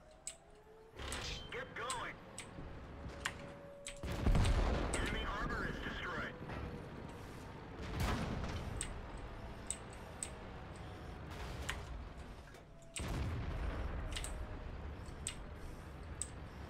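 Heavy artillery fire in an AMX 30 prototype tank game on a city map: a few deep, booming blasts stand out at intervals against continuous game noise, with someone talking throughout.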